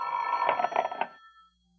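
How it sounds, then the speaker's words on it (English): A telephone bell rings once in a 1945 radio suspense drama, a single muffled, somewhat distant burst of about a second that fades into quiet. "The telephone sounded like it was ringing miles away"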